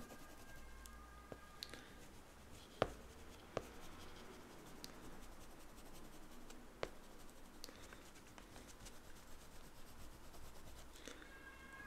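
Oil pastels rubbed and scratched across paper while drawing, a faint continuous close scraping with occasional small taps, no talk.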